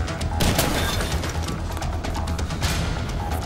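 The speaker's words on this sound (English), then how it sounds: "Someone shooting from the floor above." Gunfire crackles from the floor above in Dead Rising: loud bursts of rapid shots and booms come in clusters over constant game noise, with no talking.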